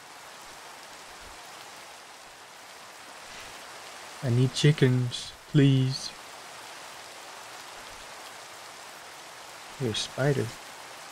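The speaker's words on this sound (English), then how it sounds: "It's raining." Steady soft hiss of rain falling in a Minecraft-style video game, continuous in the background while a player talks briefly twice over it.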